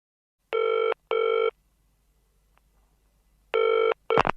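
An old-style telephone bell rings in two short double bursts separated by a pause, crisp and close in otherwise quiet surroundings, followed by a brief click as it is picked up.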